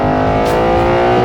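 A 2024 Ford Mustang Dark Horse engine revs loudly and close, its deep growl rising and holding for a moment.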